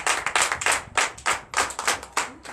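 A church congregation in Comè, Benin claps loudly during a Sunday service, the bursts of applause rising and falling in uneven waves with no voices over them.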